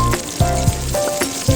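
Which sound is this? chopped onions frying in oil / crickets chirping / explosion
chopped onions frying in oil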